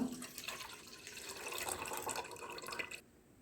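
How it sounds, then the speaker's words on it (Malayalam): Half a litre of milk poured into a pot on the stove for butter pudding, a steady liquid rush of about three seconds that stops abruptly, leaving quiet room tone. "അതിലോട്ട് നമുക്ക് അര ലിറ്റർ പാൽ ഒഴിച്ചു കൊടുക്കാം"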